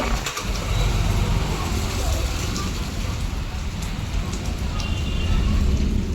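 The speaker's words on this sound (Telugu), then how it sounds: "వర్షం కూడా బాగానే కురిసిందండి" Rain falling on a cool evening, a steady, dense hiss that stays loud and even throughout, with no voices.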